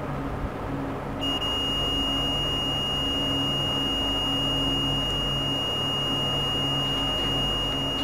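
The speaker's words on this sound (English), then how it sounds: "this is also beeping" After about a second, a laptop battery charging circuit board with a MOSFET gives a thin, high-pitched electronic tone that holds steady over a low background hum for the rest of the clip.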